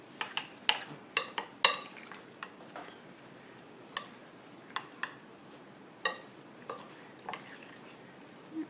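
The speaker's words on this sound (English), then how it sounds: "be careful not to stir it too vigorously" Spoon clinking and scraping against a bowl while turkey pot pie filling is stirred, a series of sharp, separate taps spaced irregularly, close and fairly quiet with no talk.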